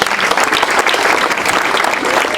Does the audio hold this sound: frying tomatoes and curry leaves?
no